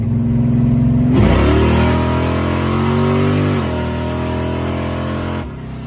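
A Camaro fitted with a new torque converter revs hard. The engine note climbs sharply, holds a loud, throaty drone for several seconds, then drops back toward idle. It sounds close, with no talking.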